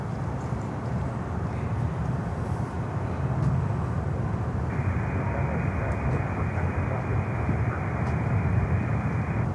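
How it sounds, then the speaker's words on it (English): A Frontier Airbus A320neo inbound from San Juan lands at Miami airport, heard as a continuous broad jet roar that swells a little partway through, with no voices. "next inbound is Frontier, a 320 Neo coming in from San Juan"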